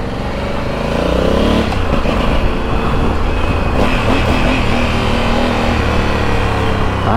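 Cars and motorbikes drive past on a road, their engines loud and close as they rev and rush by in a steady roar.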